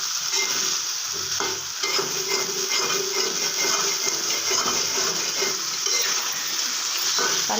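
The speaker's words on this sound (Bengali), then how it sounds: "এখন একটু কষিয়ে তারপর আমরা পানিটা দিয়ে দেব" Potatoes and spices stirred and fried in a pan: a steady sizzle fills the whole stretch, with repeated scraping strokes of a spoon across the pan surface, close and fairly loud, no talking.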